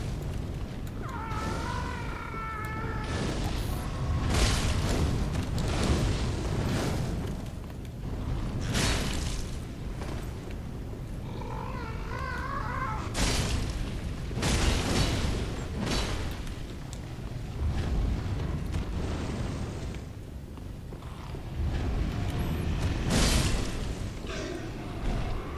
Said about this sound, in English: got this fireball over here that's going to shoot at us over here, so we gotta watch out